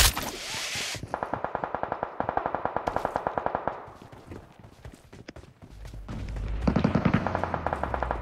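Automatic gunfire in the PUBG battle royale game, rapid bursts of evenly spaced shots close up, then a pause and scattered rounds before a heavier, louder burst near the end.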